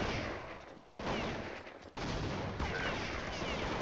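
Rapid bursts of gunfire in Counter-Strike 1.6 during a tournament match, loud and dense, broken by two brief gaps around the first and second seconds before resuming.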